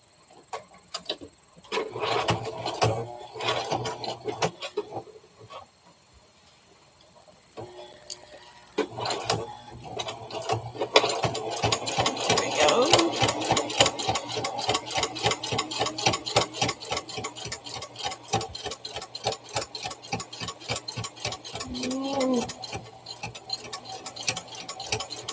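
A domestic sewing machine stitches back over the ear of a stuffed teddy bear, a rapid run of mechanical ticking stitches in bursts with a brief pause, fairly faint and close.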